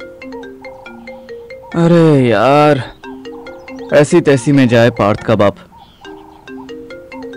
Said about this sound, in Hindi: आलस से भरे अथर ने फोन बजने दिया।